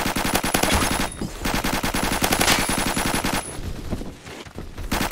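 Gunfire from a weapon in the video game Phantom Forces rattles out in loud, rapid, continuous automatic bursts with a brief pause, heard alone without talk.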